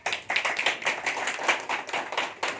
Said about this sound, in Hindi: तो सब आदमी का एक तो राम भाई की मतलब हौसला बुलंद करने के लिए एक बार ताली बजाएं।